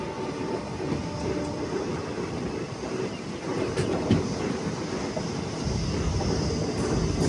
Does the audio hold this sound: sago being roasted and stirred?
no